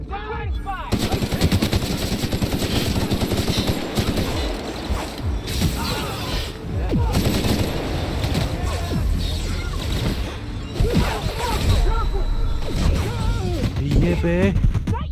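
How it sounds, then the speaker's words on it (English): Gunfire in The Outer Worlds video game, with bursts of rapid automatic shots and mechanical clanks repeating over a dense battle mix while voices shout. "Mardad, open fire!"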